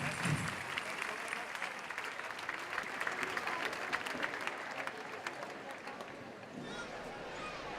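Audience applause at an outdoor Catalan festival verse recital, a steady wash of clapping from a large crowd that continues for several seconds and eases slightly near the end, with faint crowd murmur underneath.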